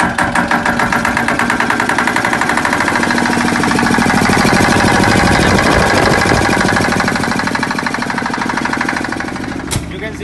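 A 10 kVA diesel generator set runs close by with a loud, steady, throbbing engine drone throughout, and someone talks over it.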